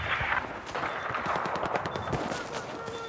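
Gunfire in Battlefield 4 Obliteration mode, sharp shots and bursts over continuous battle noise, loud and dense, with a voice talking faintly underneath.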